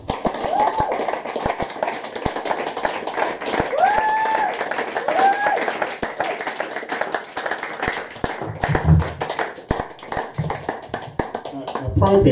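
Applause from a poetry-reading audience for poet Jasmine Ann Cooray, dense steady clapping that fills the room for several seconds, with a few tonal sounds and a voice briefly heard toward the end.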